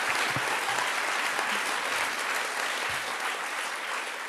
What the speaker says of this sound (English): So big round of applause for those people there.